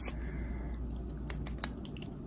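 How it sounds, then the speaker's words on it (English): Small scissors snipping out little succulent designs from nail art transfer foil, a few crisp, close clicks and snips near the end following a quiet stretch of faint rustling. "So I'm gonna cut out the little succulents."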